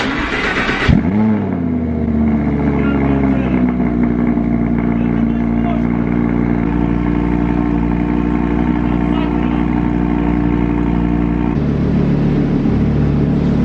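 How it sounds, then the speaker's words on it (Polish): A 610 hp Audi R8 V10 Plus fires up from a cold start after sitting parked all day, with a sharp loud burst of revs that settles into a dense, steady, high idle roar. "sprawdźmy jaki jest cold start, a jest dość mocny"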